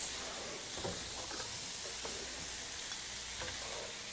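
A spoon scrapes and stirs a crowded pan of vegetable soup ingredients over a constant sizzling hiss, with a few distinct stirring scrapes close up.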